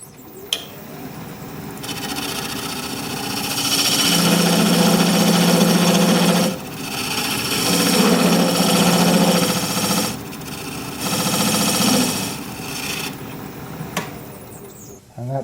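A wood lathe spins a small vase blank steadily while a skew chisel cuts a dovetail, with loud rough shearing and scraping in several sustained passes over the motor hum and short breaks between cuts.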